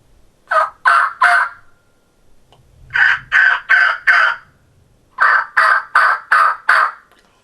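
A handheld turkey call imitates hen yelps in three bursts: a close, loud set of three sharp notes, then a run of four, then five, with short pauses between groups and no talking.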